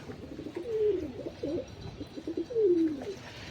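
Pigeons coo nearby in soft, rolling throaty phrases, two longer calls standing out against quiet background noise.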